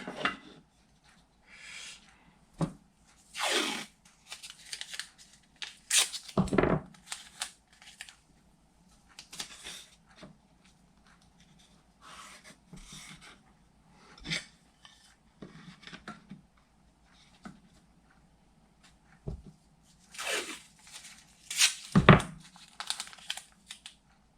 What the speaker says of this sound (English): take some masking tape, and tape the edges together.